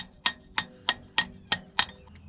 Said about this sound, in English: I'm just using the hammer sideways and just tapping it on that way.